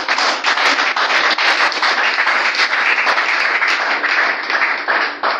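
A church congregation breaks into dense, loud applause to acclaim Jesus, many hands clapping in a steady roar that holds for several seconds.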